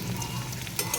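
Food fries in a pan with a steady, close sizzle and crackle that runs the whole short moment, with a slightly louder spit near the end.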